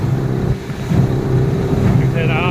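A boat running at a gentle throttle on a Huangjie 40 HP outboard motor: a loud, steady low engine drone mixed with wind buffeting and water rush, and a brief higher whine near the end.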